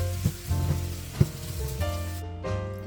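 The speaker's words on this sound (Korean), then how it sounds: "레몬을 헹궈주고요. 소금기를 깨끗하게 헹궈줍니다." Lemons rinsed of salt under running tap water give a steady hissing splash with a few louder knocks of fruit being handled, close and alone.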